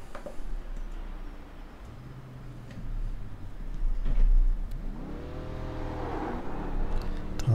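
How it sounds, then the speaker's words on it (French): A race car engine revs and accelerates on the North Wilkesboro oval in a racing game, with a steady motor drone that rises into sweeping pitch climbs as the car speeds up, close and fairly loud. "Bon, je pourrais faire un petit tour sur la piste."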